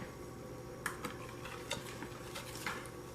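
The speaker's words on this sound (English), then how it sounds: "now we're going to mix in the flour mixture that we have" A few light clinks and scrapes of a utensil against a bowl as flour mixture is folded into wet batter with raw eggs for pumpkin cheesecake muffins, quiet and close, with no voices.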